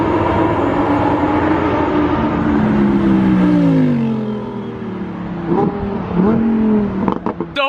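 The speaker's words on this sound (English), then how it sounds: "the Performante just ripping by" A Lamborghini Performante sports car tears past after emerging from a tunnel, its loud engine note rising and sliding in pitch as it passes close, with sharp gear changes or pops near the end.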